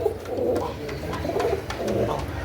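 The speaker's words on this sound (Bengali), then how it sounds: "নিয়ে আসলাম একটা বিগ সাইজের মুখী কবুতর" A big-size mukhi pigeon coos in low, repeated throaty calls close by, with a steady rhythm of soft rolling notes and no talk over it.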